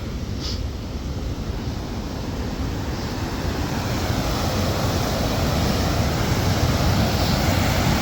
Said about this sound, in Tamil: எவ்வளோ வேகமாக அதிகரித்த சத்தத்தோடு இந்த தண்ணி வந்து பாஞ்சு